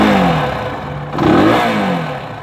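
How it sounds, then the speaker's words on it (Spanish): A Jawa 250 motorcycle engine idles, then its pitch climbs as the throttle is opened, revving up loud and close before easing off slightly. "Ese es el sonido de la moto, el delay que tiene."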